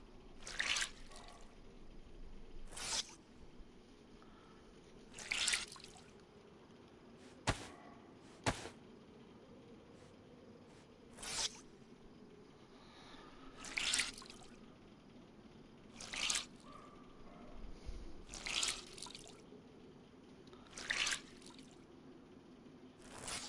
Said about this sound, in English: I'm sure I can probably wring these things out.